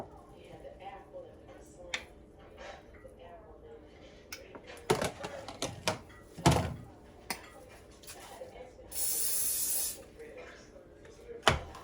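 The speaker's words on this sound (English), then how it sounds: "I sprayed that spray all over the counter." A steady hiss of cooking spray lasting about a second, amid clattering kitchen handling sounds and knocks while making waffles.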